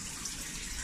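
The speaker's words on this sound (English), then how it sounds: "get the water going" Tap water runs steadily into a pot for cooking pasta in a home kitchen, a brief, even, close-up gush with no talking.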